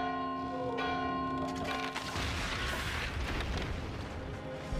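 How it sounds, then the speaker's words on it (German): Church bell ringing inside the war game Valiant Hearts, a loud sustained metallic tolling with a rich harmonic ring that swells into a heavy booming rumble, dense and continuous with no voices. "Läuten wir die Glocke."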